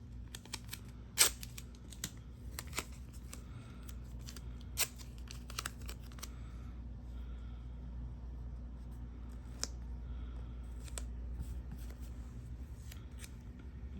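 Scissors snipping paper scraps for a junk journal spread, with several sharp, close cuts clustered early and a few more spread across a quiet stretch, over a low steady room hum and no talking.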